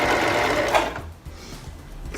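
A sewing machine stitches a buttonhole in fabric, running in a fast, close whirring burst that stops briefly and then starts again for a short moment.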